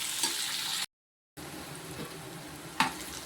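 Onion and garlic sautéing in a pan, a soft, faint sizzle interrupted by a short silent gap, with an occasional stir or clink.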